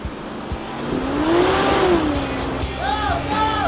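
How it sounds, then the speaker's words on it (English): A V8 ute engine revs hard close by while held on the brake, its tone climbing and falling as the turbo spools up, with a faint whine above the loud, throaty roar. "Left foot on the brake, foot down the accelerator, you'll feel the turbo really spooling up"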